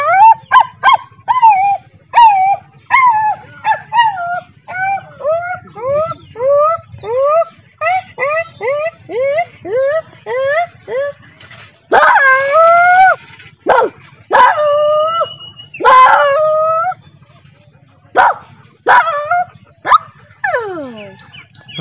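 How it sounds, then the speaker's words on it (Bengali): A young local Bangladeshi street dog performing tricks gives a long run of rhythmic, yelping barks and drawn-out whining howls, fairly close and loud, with a few sharper yips near the end and no talk over it. "দেখতে পাচ্ছেন এখন কুকুরের ডাক শুনবেন।"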